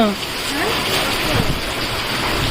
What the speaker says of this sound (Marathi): जोरदार पावसाचं आगमन झालेलं आहे